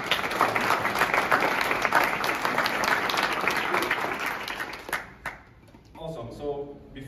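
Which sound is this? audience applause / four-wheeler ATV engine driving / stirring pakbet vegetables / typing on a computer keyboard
audience applause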